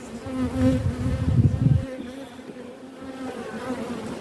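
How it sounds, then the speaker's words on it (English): Dense, droning buzz of many honeybees around a hive, loudest at first and then settling into a steadier hum. "a lot of the bees are out at this stage because they're out foraging for food"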